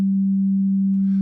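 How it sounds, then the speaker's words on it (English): A single steady low sine-wave tone from a signal generator, pure and unwavering, holds at constant loudness for about a second before cutting off. "just a low-pitched sine wave"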